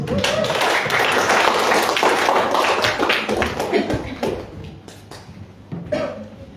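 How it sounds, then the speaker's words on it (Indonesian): Students in a classroom clap for a classmate, a dense burst of applause that thins into scattered claps and fades toward the end. "Tepuk tangan buat Mas."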